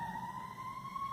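A wailing emergency vehicle siren downtown holds a steady rising tone, somewhat distant, over a low rumble of traffic.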